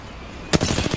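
Rapid automatic gunfire erupts in a battle royale shooter game, a sudden loud burst of closely spaced shots following a quiet lead-in, with no talking over it.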